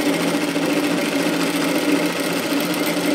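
A sewing machine stitches fabric for a flutter sleeve top, giving a steady close mechanical hum and rapid even whir throughout with no talking.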